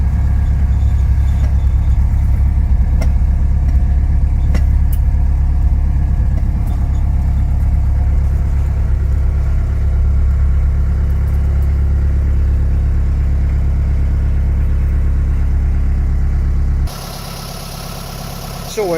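A 1989 Land Rover Defender Perentie 110 4x4 driving in third gear on a test drive, its engine a loud, steady low drone heard from inside, ending in a brief quieter shift near the close.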